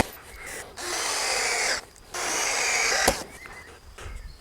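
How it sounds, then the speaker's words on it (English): Screws being driven to mount a solar-powered wireless security camera onto an outdoor post: two sustained power-driver whirring bursts separated by a short pause, followed by a sharp knock and fainter handling noise. "We'll take the screws that's provided and mount it up here on this post."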